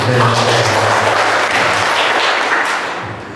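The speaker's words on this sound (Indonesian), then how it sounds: "Tepuk tangan dulu buat Tuhan." A church prayer gathering's congregation claps together, a loud burst of applause that slowly tapers, with voices murmuring underneath.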